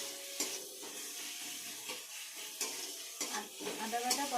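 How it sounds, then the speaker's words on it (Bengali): Spices and ginger paste frying in a pan while chicken kosha is cooked in a Bengali kitchen, with a steady sizzle and occasional stirring scrapes and clinks throughout. "এর মধ্যে দিয়ে দেবো আদা বাটা, দিয়ে ভালো করে মশলাগুলো আবারও ভেজে নেব।"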